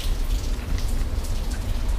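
Steady rain falls in a backyard in Mérida, Mexico, a loud, close, continuous patter and hiss with a low rumble beneath and no voices.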